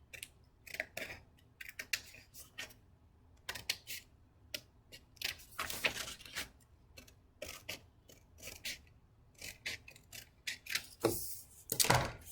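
Scissors snip through paper for a children's craft, a series of sharp, close, crisp cuts in irregular bursts with short pauses between, fairly quiet and with no talking.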